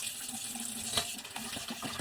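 Red lentils that have soaked for about five hours are rinsed under running kitchen tap water, giving a steady close splash and trickle with small sloshing bursts.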